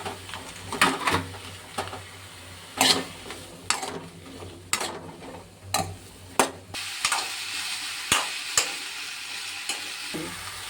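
Okra (ladies finger) frying in a pan for sambar: a low, patchy sizzle broken by repeated sharp scraping and clattering strokes of a spoon stirring against the pan, irregular and close.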